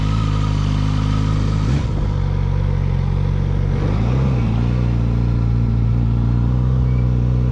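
A motorcycle engine idles and putters steadily at close range through a slow, tight U-turn inside two parking spaces, with slight rises and dips in pitch as the clutch slips.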